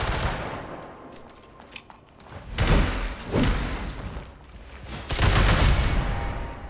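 Bursts of gunfire and heavy impacts from the video game AI Limit, loud and close, arriving in a few swelling waves with rumbling thuds between them.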